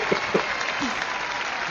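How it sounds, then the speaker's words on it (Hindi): Studio audience applause during a comedy award show segment, a steady, dense wash of clapping filling the whole stretch at moderate loudness, with a couple of brief thumps early on. "तालियां तालियां"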